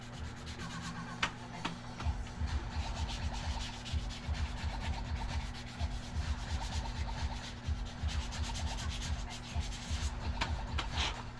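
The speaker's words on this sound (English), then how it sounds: "I was done sanding before I even knew it was over" Steady, rhythmic sanding of wood, a dry rubbing scrape repeating back and forth at close range, with a low hum underneath.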